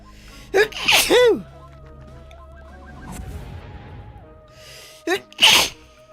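Two sharp human sneezes burst out loudly, one near the start and another near the end, each a quick gasping intake followed by an explosive snap, with quiet game music and faint background sound between them.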